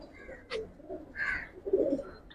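Giribaz pigeons in a loft coo in short, soft, low murmurs, with a few brief rustles and higher chirpy sounds mixed in, close and fairly quiet.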